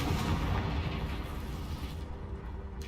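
A Confringo fire blast spell erupts in the game Hogwarts Legacy, a loud, dense booming burst that rolls on for nearly three seconds before easing slightly, with no speech over it.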